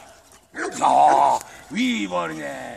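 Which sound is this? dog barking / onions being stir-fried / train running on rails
dog barking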